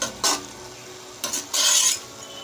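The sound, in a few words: stir-frying amaranth leaves with green chillies in a pan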